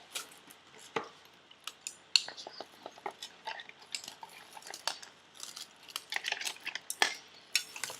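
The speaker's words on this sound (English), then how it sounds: "Then mix just a little bit." Spoon clinking and scraping against a cup while stirring a mixture for a science experiment, a run of light, quick metallic taps and scrapes, close and clear with no talking.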